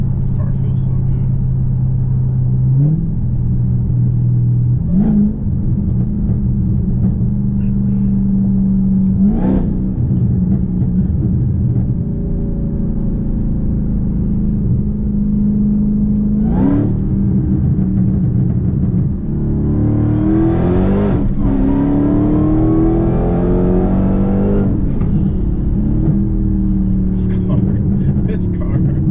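A Dodge Hellcat engine roars through repeated hard pulls, rising in pitch with each gear then dropping at the shifts, loud and close from inside the cabin.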